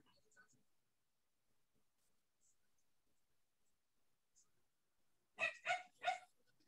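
Dogs barking in the background of a room where people watch a Formula 1 race, three quick, fairly sharp barks near the end after a long stretch of near silence with faint sounds.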